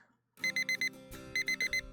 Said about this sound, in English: Beep beep beep. Beep beep beep. Nay! Without opening my eyes, I hit the snooze button on my alarm clock.